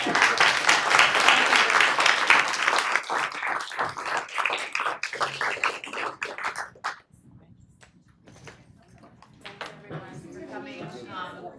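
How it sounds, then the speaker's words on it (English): Attendees at a youth dialogue event applauding, a crowd of claps that builds and then thins into scattered individual claps as it fades, followed by a speaker's voice. "So just a big round of applause also to all of you for staying."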